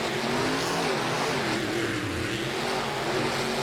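Monster truck engines roaring at a Philadelphia racing event, loud and sustained with rising and falling revs, blended with a broad crowd-and-arena wash and no voices.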